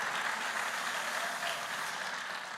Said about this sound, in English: How about a round of applause for Tony Perkins